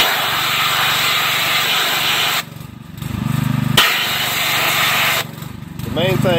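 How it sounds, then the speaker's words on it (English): Pressure washer blasting grime off a 2011-2015 Chevy Cruze 1.8L engine: loud, close, continuous hissing spray, broken by two brief pauses where the jet cuts out, with a voice speaking near the end. "This pressure washer got a lot of pressure, it'll take it off."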